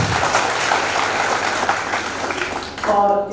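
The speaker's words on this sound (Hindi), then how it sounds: "इसके लिए जोरदार ताली हो जाए" Audience at an International Buddhism Foundation summit breaks into loud, sustained applause, continuous clapping that fades and is followed by a voice speaking.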